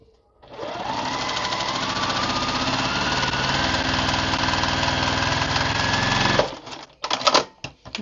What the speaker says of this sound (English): And sew the other side.